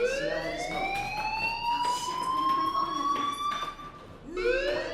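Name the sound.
fire alarm ringing in a video game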